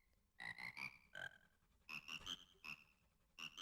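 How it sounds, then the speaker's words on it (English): Frog choir song from the video game Majora's Mask, a series of bright croaking notes in rhythmic groups of three and four, sung as a quirky melody by the game's frogs, clear and alone without talking. "The frog choir. I can cross that off my side quest list."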